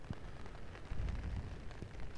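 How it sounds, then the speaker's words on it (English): Wind gusts and rain buffet an open golf course on a cold, stormy day, a steady rough roar with no voices. "It is cold, it is blowing a gale, and it is raining."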